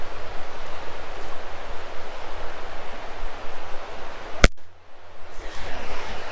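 A single sharp rifle shot fired outdoors at a bear target while hunting in the Big Horn Mountains, one loud crack mid-clip over steady wind noise, followed by a brief dip then rising ambient rush.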